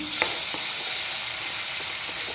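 Potatoes stir-fried in a pan for a potato and pea bhaji, giving a steady, loud broadband sizzle with a few faint scrapes of the spatula, no voices.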